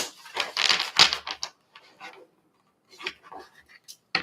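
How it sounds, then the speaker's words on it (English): A deck of tarot cards is shuffled by hand close up, in two bursts of crisp riffling and rubbing with a short pause between them and no talking. "I'm going to try to get a good shuffle before we head into this last two."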